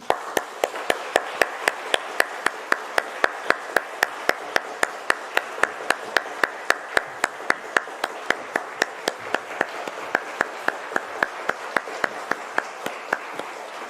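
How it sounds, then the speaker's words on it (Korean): A church congregation at a family dawn prayer service claps together in a steady, even rhythm, several sharp claps per second, keeping the beat the whole way through with no voices. "다시 한번 우리 박수하겠습니다"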